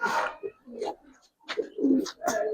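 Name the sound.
Giribaz pigeon cooing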